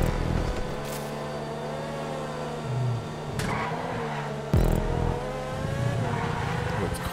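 Race cars in GTA 5 Online rev and accelerate through a swamp course, engine tones rising and shifting with sudden bursts and brief tire noise, loud and close throughout.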